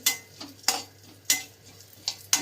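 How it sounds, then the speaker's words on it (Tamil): Chana dal dry-roasted in a pan for homemade idli powder, with sharp rhythmic scraping strokes of a spatula every half second or so over a faint background hiss, close and fairly loud. "இப்போ இது கடலப்பருப்பு வறுக்கட்டும்"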